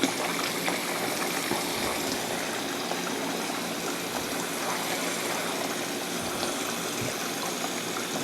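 Cold tap water runs steadily into a kitchen sink while potatoes are peeled with a serrated knife, a continuous broadband gush lasting throughout with no talk over it.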